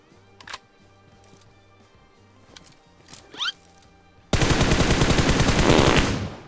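Rapid automatic gunfire in PUBG arrives as a dense, loud burst lasting about two seconds after quieter in-game clicks and movement sounds, with no talking.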